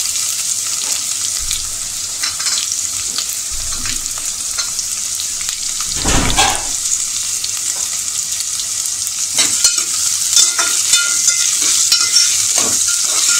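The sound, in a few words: chopped onion frying in a pan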